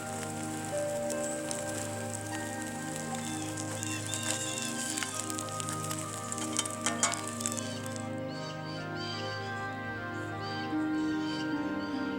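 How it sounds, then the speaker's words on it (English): Eggs sizzle in pork grease over a campfire at a railside camp, a steady crackling hiss with occasional pops and clinks, close and continuous. "The eggs could also fry in the pork grease."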